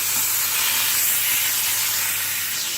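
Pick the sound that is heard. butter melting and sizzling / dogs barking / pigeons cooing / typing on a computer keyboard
butter melting and sizzling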